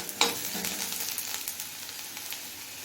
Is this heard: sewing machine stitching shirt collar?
no